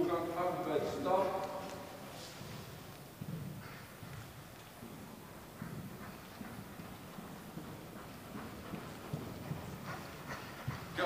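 Horse hooves clip-clop through a dressage test, a steady rhythmic beat from a fairly close horse under a spoken test commentary, with people talking throughout.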